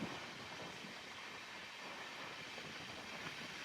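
Seshadri Express running on an LHB rake: a faint, steady rush of rolling wheels and airflow from inside the moving train, with no voices.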